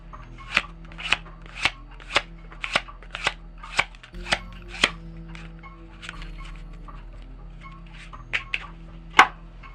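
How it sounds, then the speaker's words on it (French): A deck of cards is shuffled and cut by hand during a magic trick, giving a run of sharp, evenly spaced snaps followed by quieter handling and a final crisp snap. "Je vais de nouveau mélanger mon paquet et recouper mon paquet."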